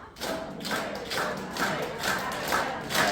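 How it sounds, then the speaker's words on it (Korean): A group at a day care centre claps in unison, a steady series of sharp, fairly loud claps in a regular rhythm, close by in an indoor room. "박수 일곱 번 시작"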